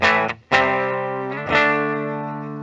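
Distorted electric guitar chords from the bridge pickup of a 2012 Gibson Les Paul BFG ring out loud and sustained, a short stab followed by two long, saturated strums that slowly decay.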